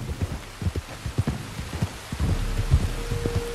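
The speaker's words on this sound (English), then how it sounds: "You were right about the damn rain." Rain patters steadily on surfaces in the Red Dead Redemption 2 video game, a dense hiss with scattered drop taps and soft low thumps, moderately loud and continuous with no talk.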